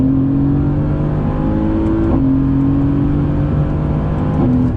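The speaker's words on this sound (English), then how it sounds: "another acceleration test. Second gear, on throttle. Shift it manually." Mercedes-AMG GT accelerating hard in second gear with manual shifts, a loud, steady engine drone climbing in pitch, broken by quick shift breaks and pops, close and continuous with no talking.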